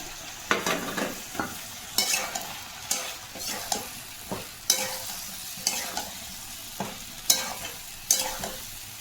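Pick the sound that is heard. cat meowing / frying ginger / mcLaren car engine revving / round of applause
frying ginger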